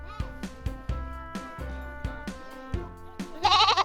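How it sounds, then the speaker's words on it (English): Sheep on a Yorkshire farm bleat in a few short calls, with a louder, brighter bleat near the end, heard close by amid light background noise. "Next up, we saw some sheep."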